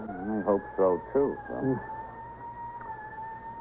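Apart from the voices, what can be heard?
ambulance siren in radio drama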